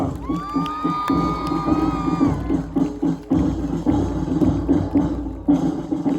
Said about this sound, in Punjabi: ਜੋਰਦਾਰ ਤਾਲੀਆਂ